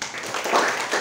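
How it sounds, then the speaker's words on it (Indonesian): A classroom of students claps hands after group presentations, a brief burst of scattered, fairly soft applause. "Tepuk tangan dulu."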